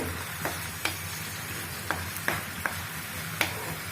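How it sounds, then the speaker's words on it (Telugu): Onion paste frying in hot oil for a crab fry, a soft continuous sizzle broken by several sharp clicks of a spoon against the pan. "వేస్తున్నాను ఈ ఆయిల్లో. బాగా వేగనిద్దాము."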